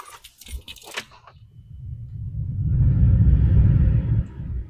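A newly installed HVAC blower motor with its plastic shroud refitted spins up after a few handling clicks, building into a steady low rumble and whoosh that holds, then eases slightly.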